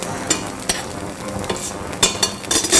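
Onions sizzle in a very hot pan, a steady crackling hiss broken by several louder bursts of stirring and scraping, with no voices.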